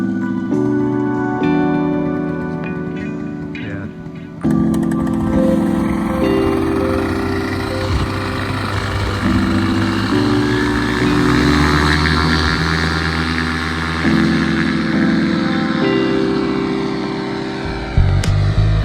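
A light aircraft engine warms up before a winter flight, a loud, steady droning hum whose pitch steps up and down as the throttle shifts, heard close with no talking.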